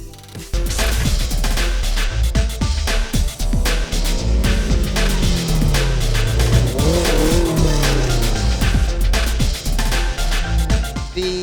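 Race cars at round 4 of the 2023 grassroots Super Sprint at Parklink C5 Pasig on a hot, dusty course, loud engines revving and shifting up and down continuously, with rising and falling pitch sweeps as cars accelerate nearby.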